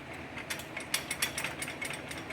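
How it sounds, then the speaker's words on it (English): The gear shifter lever on a mini hot rod clicks through its ratcheting positions, a quick run of sharp mechanical clicks and ticks heard close and fairly quiet. "So whenever you go back, it upshifts, and then down or forward is downshift."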